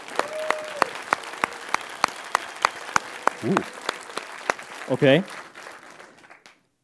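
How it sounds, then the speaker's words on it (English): Audience applause at a code.talks 2018 tech conference session, a steady patter of claps with crisp, evenly spaced hits, briefly overlapped near the end by a short spoken exclamation before fading out. "give me some applause right now"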